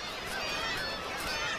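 Black-legged kittiwakes at Arctic coastal nesting cliffs in March, a dense chorus of overlapping harsh, honking calls from many birds, continuous and moderately loud with no talking.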